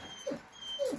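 A dog gives two short, high whimpers about half a second apart, close by and fairly quiet, with no talking over them.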